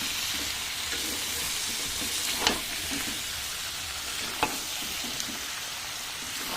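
Meat frying in oil in a pan, a dense, steady sizzle that fills the whole stretch with a couple of faint clicks from stirring, close and even throughout.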